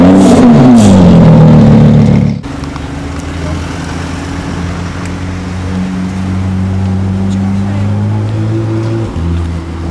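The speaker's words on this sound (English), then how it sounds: "Aventador with the DMC wing" A Lamborghini Aventador fitted with a DMC wing roars past loudly on a street in the south of France, its engine note sliding downward as it goes by, then fading into a lower rumble of traffic.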